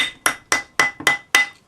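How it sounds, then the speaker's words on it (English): A rawhide hammer taps a ring on a metal ring mandrel six times in an even rhythm, each sharp, close strike ringing briefly with a metallic tone, with no speech. "Use a rawhide hammer."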